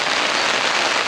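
Steady rain drumming on a tent, a dense, even hiss of countless drops striking the fabric close overhead, continuous and fairly loud throughout.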